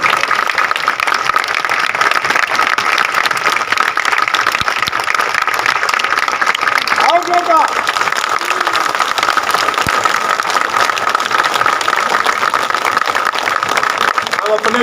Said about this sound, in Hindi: तब तक आप ताली लगाएंगे